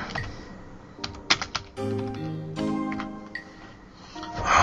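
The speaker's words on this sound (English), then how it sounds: "Oh my god, my typing" Computer keyboard keys clack in quick, close taps and short bursts, mixed with brief tonal sounds and faint background noise, with no talking.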